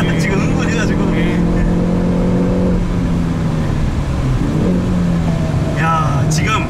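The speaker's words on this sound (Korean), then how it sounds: "야 레브 매칭 기능 진짜 장난 아니다." A Hyundai Veloster N revs on a racing circuit, its engine blipping as it rev-matches on a downshift. The loud, steady engine drone runs under voices talking inside the car.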